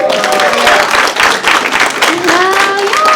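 An audience at a live comedy show claps hands in a loud, sustained burst, with cheers and voices mixed into the applause throughout.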